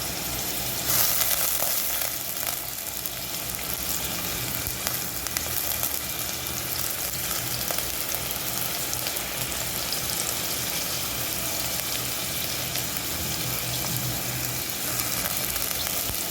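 Curry leaves sizzle in hot oil while a cabbage mixed-vegetable poriyal is cooked, producing a long, steady, close frying hiss with fine crackles, unbroken throughout and with no voices.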